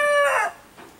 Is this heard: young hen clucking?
yes